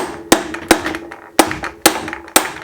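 A rubber or plastic mallet knocks a bicycle fork loose: five sharp, close taps at uneven intervals, each ringing briefly before fading, with quiet pauses between.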